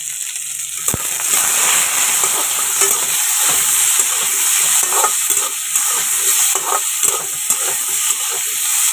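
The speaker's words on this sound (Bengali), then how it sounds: "এবারে হালকা করে আলুটাকে একটু ভেজে নিলাম" Potatoes fry in a small amount of oil, giving a continuous bright hiss and sizzle with soft scraping stirs scattered through it, near and fairly loud; no one talks.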